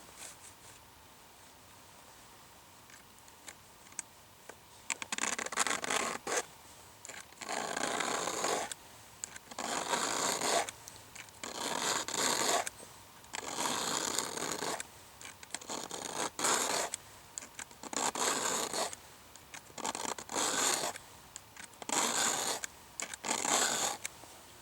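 A file being drawn across chainsaw chain teeth to sharpen them, about a dozen even rasping strokes in a regular back-and-forth rhythm, close and fairly loud after a quiet start.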